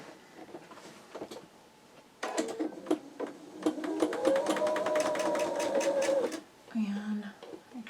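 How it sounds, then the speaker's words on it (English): A sewing machine stitches quilt blocks for a calico cats quilt, its rapid needle rattle starting after a quiet moment and running steadily for several seconds close by, with a short pause and faint handling at the end. "I'm going to take it to the machine and we're going to sew that"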